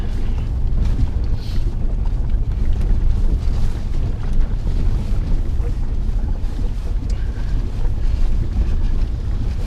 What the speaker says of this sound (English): I'll roll through this bit of water here.